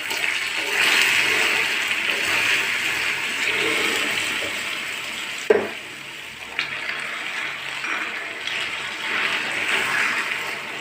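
About half a glass of water is poured into a pan of melted caramelised sugar while making a beetroot plum cake, giving a steady rushing, hissing gush that stays loud for several seconds before tapering off with a few splashes.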